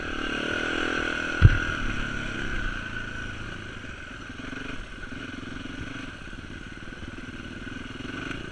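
A 450 dirt bike engine runs steadily with a sustained droning tone, punctuated by one sharp clunk early on; no one speaks.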